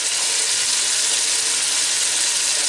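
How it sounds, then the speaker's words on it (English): Meat browning for chilli con carne in a pan while being stirred gives a steady, even sizzle that holds without a break, close and fairly loud. "I have been stirring for a few minutes there to brown the meat off"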